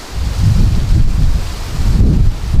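Strong gusting wind buffets the microphone at a Lake Superior campsite during a wild, windy night, a loud continuous low roar swelling and easing in waves with no voices.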